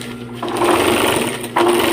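A sewing machine whirs steadily close by, its motor pitch rising briefly, with a short pause before it runs again.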